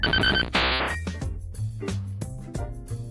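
An in-game phone ringing in a Pokémon Battle Revolution match, a bright electronic ring tone that chimes briefly at the start amid game music and effects.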